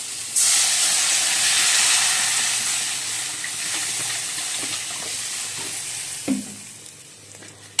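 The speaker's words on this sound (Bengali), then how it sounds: "কষানো হয়ে গেছে, এবার জলটা দিয়ে দিচ্ছি।" Water poured into a hot pan of simmering Bengali curry with potatoes hisses and sizzles in a loud, steady rush that slowly fades, with a few clinks near the end.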